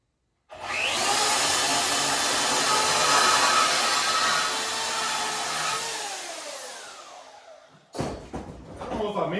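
A bandsaw fitted with a new blade cuts steel tubing during a rear clip build for a Factory Stock car: a loud, sustained grinding whine for about seven seconds that fades out, followed by clanks and handling noise.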